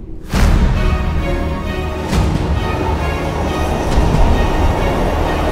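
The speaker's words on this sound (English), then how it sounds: "I'm on the train, yeah." Inside a moving passenger train, a loud, continuous rumble of wheels and carriage fills the space, with a couple of heavier clunks along the way.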